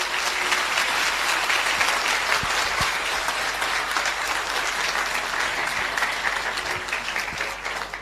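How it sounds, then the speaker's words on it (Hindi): Audience at a Hindi Christian sermon claps together steadily, a dense, sustained wash of applause that fills the room for about eight seconds and tapers slightly at the end. "आइए प्रभु के लिए अच्छी ताली बजाएंगे मिलके।"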